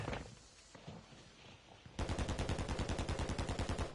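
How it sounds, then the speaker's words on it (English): Rapid automatic gunfire in the video game Warzone, a loud burst of evenly spaced shots starting midway after quieter scattered game noise, with no talk over it. "I couldn't see which way they were shooting."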